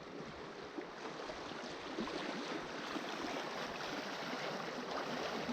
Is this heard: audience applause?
no